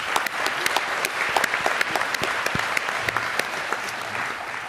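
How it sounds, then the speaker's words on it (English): An audience at an agricultural productivity Q&A session gives a round of applause, brisk dense clapping with distinct sharp claps near the front, steady and continuous for several seconds. "an extra round of applause for Ken"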